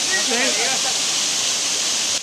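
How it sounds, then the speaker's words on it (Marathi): Madkai waterfall near Chaukul village pours steadily, a dense close roar of falling water that stays constant throughout, with no voices over it. "पाणी पडतं नुसतं धबधबा नव्हे"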